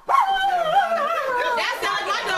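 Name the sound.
dog barking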